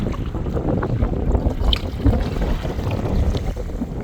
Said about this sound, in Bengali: আমি নৌকায় বসে আছি